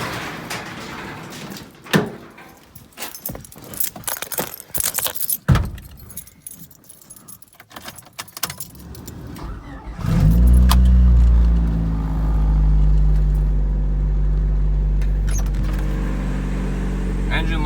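Keys jangle and clink in irregular bursts near the microphone, then a car with cut springs cranks and its engine catches, settling into a steady, loud idle rumble.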